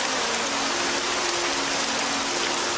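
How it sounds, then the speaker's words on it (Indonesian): Steady, loud rain pours down in a continuous dense hiss with no pauses, heard alone and close throughout. "Pagi harinya, hujan pun akhirnya turun setelah berbulan-bulan lamanya tidak turun hujan."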